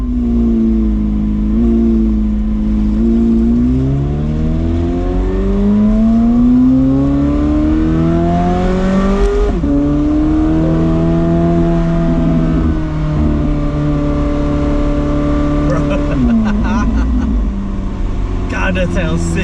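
A McLaren 765LT supercar accelerates hard, the engine rising and climbing through gears in loud sweeping revs heard from inside the cabin, with a brief drop between shifts and a louder roar near the end.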